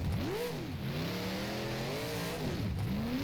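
A big block modified race car in the rFactor video game revs hard and accelerates, its engine note sweeping up and down through the gears continuously and loudly, with no talk over it.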